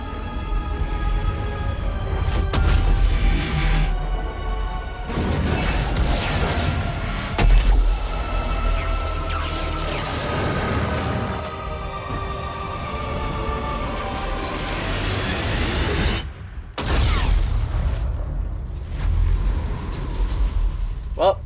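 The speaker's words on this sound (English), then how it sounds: "And there's the bomb." A bomb detonates in the video game Dragon Age 2 with heavy booming rumble and crashing debris, layered over dramatic music and character voices, loud and continuous with a brief sudden drop before another surge.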